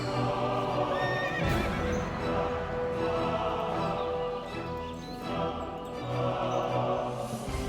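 A horse mount neighs and whinnies in World of Warcraft: Wrath of the Lich King Classic, ridden by a human mage, with steady tonal game music underneath.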